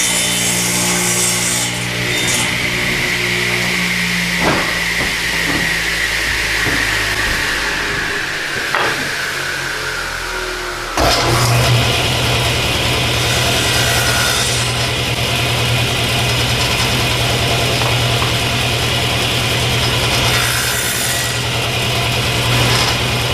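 A table saw squares the edge of a poplar piece for a chess set, with rasping cuts and motor whine. Midway the saw settles into a loud, steady close hum, and no one speaks.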